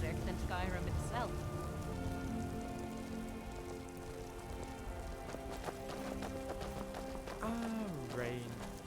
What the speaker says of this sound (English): Rain. Skyrim weather at its finest.